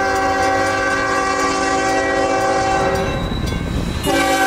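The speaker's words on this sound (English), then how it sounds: "traffic on the main 10th Street is brought to a sudden stop by our inbound rock train crossing the scene" A long, loud train horn blasts with sustained chords while a heavy CSX rock freight train rumbles past close by at a road crossing, wheels clattering underneath.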